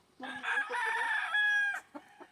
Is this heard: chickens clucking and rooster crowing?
yes